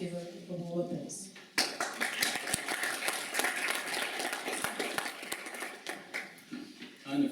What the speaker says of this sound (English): give a whole applause